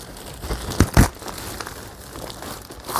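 A plastic bag holding boxing gloves crinkles and rustles as it is opened, with two sharper crackles near the start followed by softer handling noise close by.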